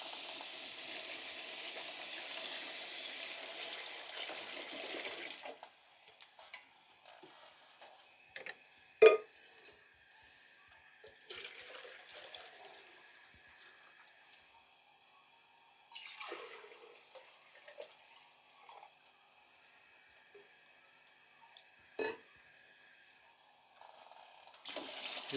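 Water gushes steadily into a pot of spiced pulao masala with ghee risen on top, a loud rushing pour for about five seconds, followed by quieter drips, clinks and scattered splashes.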